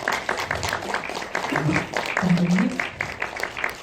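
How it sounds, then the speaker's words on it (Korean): An audience claps warmly to welcome a film's director and actors to the stage at an indie movie talk event. The applause runs throughout at moderate volume, with a voice speaking over it. "여러분 뜨거운 박수로 환영해 주세요"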